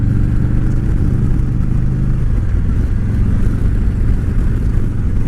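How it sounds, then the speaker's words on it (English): A motorcycle engine revs close by on the rider's first ride of spring after months off. It is a loud, continuous low-pitched drone with a steady throb and only slight swells in throttle. "Kind of revving around a little bit"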